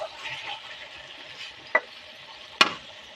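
Garlic frying in oil to temper khichuri: a faint, steady sizzle with two sharp clicks of a utensil against the pan.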